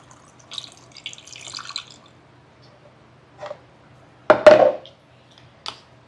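Liquid is poured into a bottle in one short, loud splashing gurgle, followed by a brief drip, in an otherwise quiet kitchen with faint clinks earlier.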